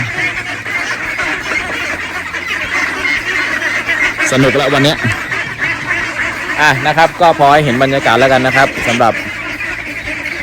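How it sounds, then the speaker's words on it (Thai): Several ducks quack in noisy clustered bursts, close by, at a campsite in a garden, with someone talking intermittently over steady outdoor ambience. "ท่านอาจจะได้ยินอะไรนะครับ มีเป็ดครับ มีเป็ด"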